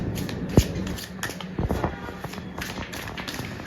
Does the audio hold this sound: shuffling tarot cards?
yes